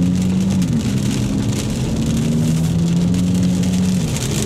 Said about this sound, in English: And listen to that exhaust. You can hear it because I have it in sport mode